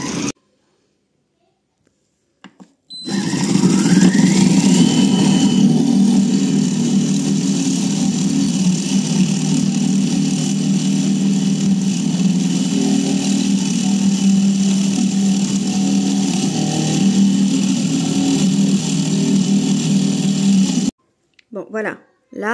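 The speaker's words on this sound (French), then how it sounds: "Là, mon ail s'est mixé." A blender blitzes garlic bulbs for garlic pesto. A loud, steady motor drone starts abruptly after a short quiet, runs for about eighteen seconds and then cuts off.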